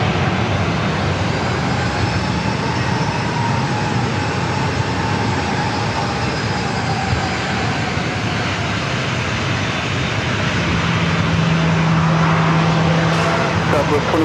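An Air Canada airliner departing San Diego airport roars steadily and loudly throughout, a broad continuous jet engine rush with a faint whine, as a radio voice talks over it.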